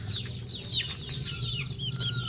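Backyard gamefowl chickens clucking in a steady run of calls, close and fairly loud over a low background hum, with no talk.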